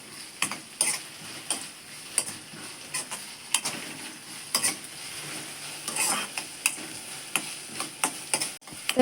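Onion stirred while frying in a pan for Konkani pale bhaji, with a steady low sizzle under repeated sharp scraping and clicking strokes of the spoon, close and fairly loud throughout.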